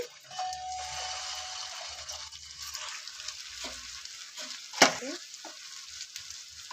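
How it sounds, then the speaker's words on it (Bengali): Chicken kofta balls frying in hot oil in a pan, a constant close sizzle with a brief sharp clink partway through, no one speaking. "আমি এইগুলো তেলে দিয়ে ভেজে নিচ্ছি"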